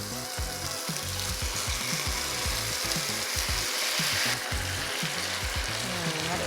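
Salmon sears in a hot pan as teriyaki sauce goes in, a steady loud sizzle with crackling bursts throughout, close by and with no talking.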